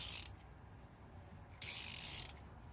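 Tap wrench being turned back out of a thread during repair with a tap and die kit: quiet, rapid ratchet clicking in two short bursts separated by a pause.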